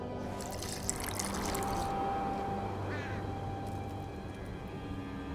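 Water poured into a flask in The Witcher 2 video game, a trickling splash up close that fades into softer dribbling, alone without talk.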